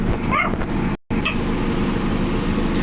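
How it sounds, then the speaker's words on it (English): A dog barks and yips in the background, a couple of short distant barks against a steady noisy hum, with a brief dropout in the sound. "my dog's barking in the background"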